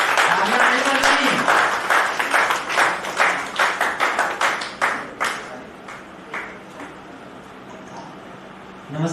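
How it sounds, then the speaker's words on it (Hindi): Audience applause at a poetry festival in Palam, Delhi: a crowd claps in a dense burst of sharp claps that loosens into scattered, slowing claps and fades out. "जोरदार तालियां तो बजाइए"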